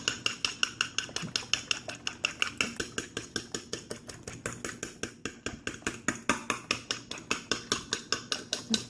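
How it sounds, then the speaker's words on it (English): A utensil beats ingredients in a bowl for chicken milanesa, making rapid, evenly spaced clinking strokes that continue nonstop, close and fairly loud, with no talking. "we're just going to mix this up"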